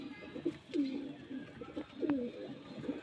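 Pigeons coo repeatedly at a bird sale, with soft throaty calls rising and falling close by at a steady pace, and no talking over them.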